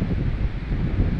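Steady broadband wind blowing outdoors in woodland at a camp, a continuous rushing roar with microphone buffeting, with no talk over it.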